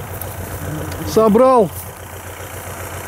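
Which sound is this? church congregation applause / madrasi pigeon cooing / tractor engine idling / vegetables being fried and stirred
tractor engine idling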